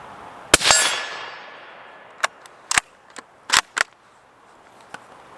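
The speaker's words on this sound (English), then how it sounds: "Let's do some 60-yard shooting with the suppressor on here." Suppressed Ruger American Scout rifle fires once at 60 yards, followed moments later by several sharp metallic rings as rounds strike a 10-inch steel plate, loud and distinct with no talking.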